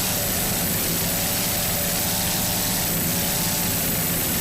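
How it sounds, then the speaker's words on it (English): Offshore racing boat powered by a Mercury 525 inboard with an IMCO drive, a loud, steady engine roar running the whole time, with no talk over it. "this year powered by a Mercury 525 inboard with an IMCO drive"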